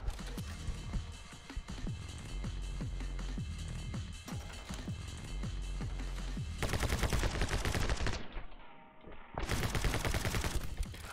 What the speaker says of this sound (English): Oh, you can shoot while dodging.